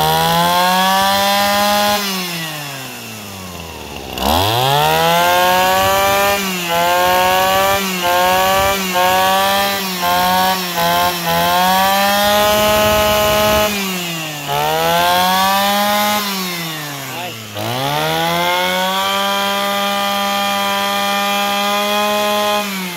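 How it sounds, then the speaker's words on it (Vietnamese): A Kawasaki TA33 33cc small two-stroke engine with a 37mm bore runs close by, its buzzing note repeatedly revving up sharply and dropping back to idle in several throttle blips, loud and harsh with no talking. "Mấy bác nghe tiếng máy nó bốc cực kỳ luôn."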